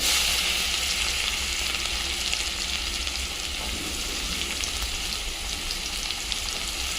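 Chopped garlic and onion sizzle loudly in hot oil with a cumin, dried red chilli and asafoetida tempering, a dense, steady crackling fry heard up close with no talk.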